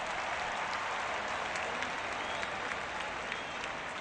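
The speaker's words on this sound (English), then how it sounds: "Rangers fans applaud the effort." Steady applause from a large crowd of Texas Rangers fans in a baseball video game fills the whole stretch, dense and even, with a faint murmur of voices blended in.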